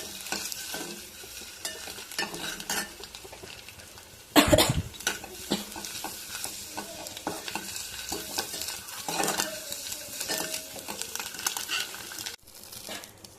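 Halved boiled eggs fry in a hot pan for egg dum biryani, with steady crackle and sizzle, scraping stirs throughout and a sharp clatter near the middle.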